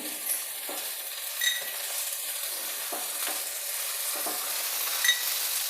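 Continuous bright sizzling of garlic and spices in hot tempering oil, with a few soft stirring scrapes and small pops scattered throughout.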